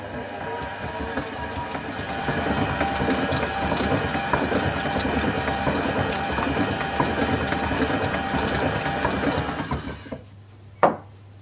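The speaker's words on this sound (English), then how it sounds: "Give it a good mix after each one of them." Whole eggs being mixed into cheesecake batter by an electric mixer, a steady loud whirring drone that runs for about ten seconds before cutting off, followed by a single knock.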